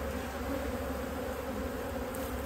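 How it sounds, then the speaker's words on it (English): Dense, steady buzz of many honey bees in an open hive during a winter check, a continuous close hum with no voices. "Lots of bees in here."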